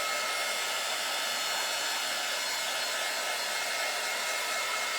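A heat tool blows steadily and close while drying a craft coating, a constant loud rushing hiss with no pauses.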